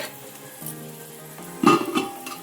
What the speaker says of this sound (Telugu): ఇప్పుడు ఈ తాలింపు అంతా పొంగల్లో పోసేసుకుందాం.